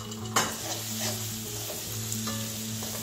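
Ground spices and panch phoron sizzling in a pan for a Wallago attu fish curry with tomatoes, a steady frying hiss with a sharp utensil knock near the start and light scraping stirs, close and alone.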